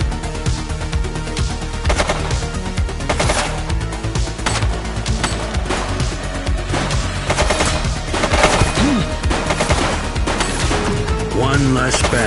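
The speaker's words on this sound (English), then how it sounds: "She's shooting!" Loud, dense gunfire rattles through a police shootout in the video game The Precinct: rapid automatic bursts and single shots pile up continuously over a busy, crowded soundscape.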